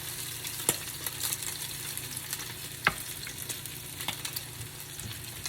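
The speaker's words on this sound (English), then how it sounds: "it's not a full pan of oil. It's just enough to coat the outer edges of the patty" Salmon patties fry in a shallow layer of oil in a pan, a steady close sizzle with a few sharp scrapes and clicks as they are moved around.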